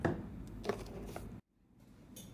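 A coffee face scrub being stirred in a bowl, soft gritty scraping and squishing strokes that stop abruptly, then faint quiet stirring resumes.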